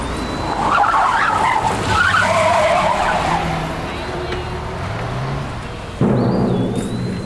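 A car brakes and skids to a halt on a road, a sustained loud screech with engine noise beneath, followed by a sudden thud near the end.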